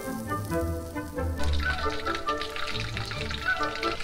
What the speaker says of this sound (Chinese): 将这些鱼头啊、鱼骨啊全部下锅煎香